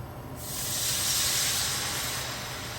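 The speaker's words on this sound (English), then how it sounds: "I'm going to show you what happens when you throw water on a hot pan." Loud hiss of water sizzling on a hot pan, bursting in suddenly and holding strong before easing slightly.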